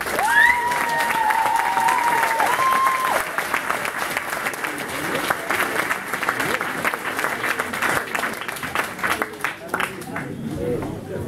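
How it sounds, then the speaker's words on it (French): A large crowd at a dinner event applauds in a dense, sustained wash of clapping with a thin whistle early on, gradually thinning into scattered claps near the end. "ça mérite vraiment un tonnerre d'applaudissements"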